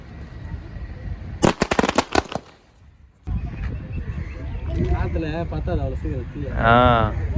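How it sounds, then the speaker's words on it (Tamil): A string of firecrackers bursts in a rapid crackling volley for about two seconds during a Vinayagar Chaturthi street celebration in Vellore. A noisy crowd follows, with voices and chatter continuing after the bangs stop. "சரம்படாஸ் வந்து வெடிக்கிறாப்பில்"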